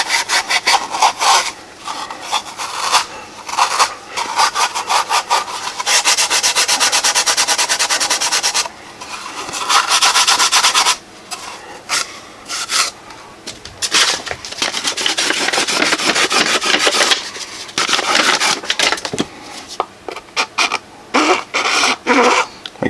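Kydex holster edges sanded by hand, producing long, loud, close rasping strokes in repeated bursts with short pauses between them.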